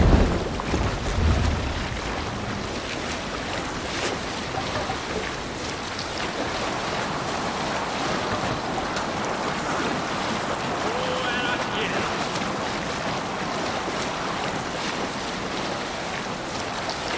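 A Viking longship sails across the open sea in Assassin's Creed Valhalla, with a continuous rush of waves and wind noise, loud and steady throughout.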